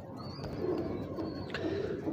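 Golden pigeon cooing close by, soft repeated low coos in a short sequence with faint background noise.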